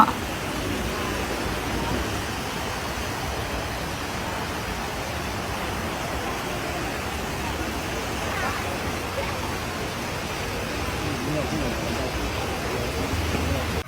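Fast floodwater flows through Mae Sai, Thailand, after brief rain near the Thai–Myanmar friendship bridge, a constant broadband rush heard throughout, with a voice talking over it.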